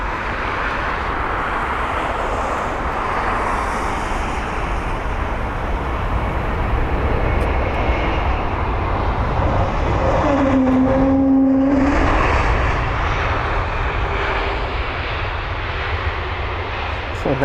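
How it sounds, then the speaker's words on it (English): Airbus A320neo landing at London Heathrow, a steady loud jet roar that swells and holds, with a brief rising tonal whine midway, continuous and without voices. "nicely done by the A320neo with a really good landing as well, nice and smooth"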